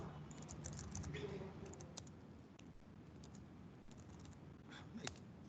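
Steady clicking of typing on a computer keyboard, close and continuous at moderate level, over a constant background hiss, with no clear voice.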